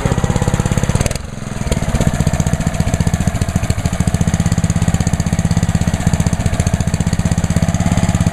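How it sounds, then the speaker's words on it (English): Pressure washer powered by a Honda GCB 190 small engine running steadily up close, with a loud, rapid rhythmic chugging and a short dip in level around the first second before resuming. "This is powered by a Honda GCB 190 engine."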